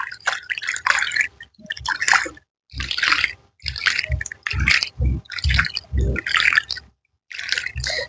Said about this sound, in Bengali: এইবার এতে কি করব, একবারে ভরে জল দিয়ে দেবো, একদম ভর্তি করে জল দিয়ে দেবো।